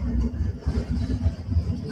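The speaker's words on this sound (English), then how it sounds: "My whole apartment is shaking because of that truck outside right now." A truck passing outside an apartment, heard from indoors as a deep, fluctuating low rumble with engine throb that shakes the room, fairly loud and continuous.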